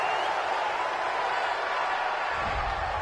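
A home crowd at a Ravens at Seahawks football game cheers a call in a steady, dense roar that fills the stadium, with a low rumble swelling near the end.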